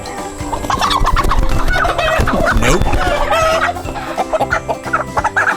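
Several chickens cluck and squawk close by in a busy, overlapping chorus, with a rooster-like call rising briefly in the middle.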